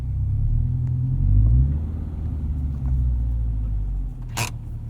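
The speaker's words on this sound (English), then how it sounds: "BRZ sounds a little bit better than the S2000." Subaru BRZ sports car engine running steadily at idle nearby, a low continuous rumble with a slight swell in the middle and a brief sharp noise near the end.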